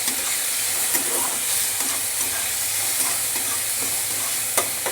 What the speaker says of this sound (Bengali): এবার আরও একটু নাড়াচাড়া করে নিচ্ছি কাঁচা লঙ্কা পেস্ট দিয়ে